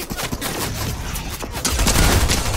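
Rapid bursts of shotgun fire in a Fortnite match, loud and close, crackling in quick succession with no voices over them.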